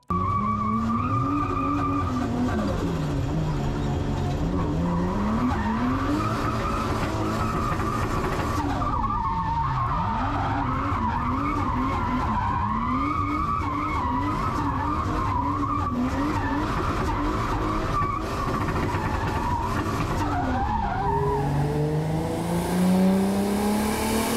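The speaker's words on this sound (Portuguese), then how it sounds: "o GTR do nosso querido Diego Iga, nosso DK, vai aparecer agora e também o motor que ele está usando." A sports car engine revs up and down repeatedly, its pitch sweeping high and low, with tires squealing and skidding under the loud, continuous roar.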